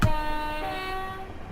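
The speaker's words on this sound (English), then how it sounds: "A little late on the horn there." A Class 375 electric train sounds its horn in Train Simulator 2022 on the Chatham Mainline, one sustained two-tone blast, loud and close, held for the full second and a half with a slight pitch shift midway.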